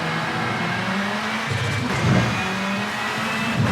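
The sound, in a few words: RX2 rally car accelerating hard in V-Rally 4 video game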